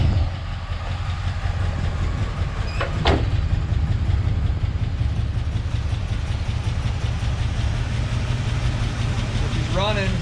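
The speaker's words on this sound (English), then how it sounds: "There she is, a 350 Rocket," A 1971 Oldsmobile Cutlass with a 350 Rocket V8 runs with a steady close rumble, slightly stumbling, as someone talks briefly over it.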